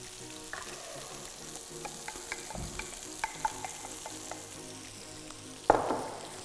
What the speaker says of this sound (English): So just give that a little bit of a stir